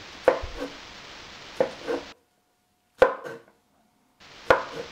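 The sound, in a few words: chopping shaggy mane mushrooms into small pieces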